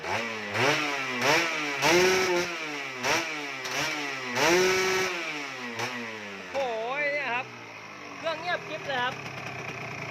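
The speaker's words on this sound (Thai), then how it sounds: "เร่งเร่งหน่อย นี่น้ำยังไม่ได้ใส่นะครับ โอ้ยสุดนะครับ เร่งยาวๆหน่อย" Yamaha VR two-stroke motorcycle engine with a freshly rebuilt motor, revved in sharp repeated blips that rise and fall, each burst raspy and loud, then settling into lighter rev spurts near the end.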